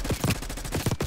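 Rapid gunfire in Black Ops 6, a quick burst of about eight sharp shots in an uneven rhythm, loud and close, with no voices.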